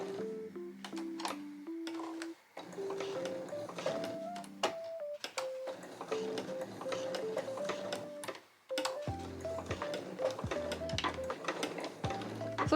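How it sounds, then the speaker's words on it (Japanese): A sewing machine stitches fabric along a curve in short bursts, a fast mechanical whirring chatter with a steady pitch, stopping and restarting several times, with brief pauses between runs. "で際をこのカーブに沿わせて縫っていきます"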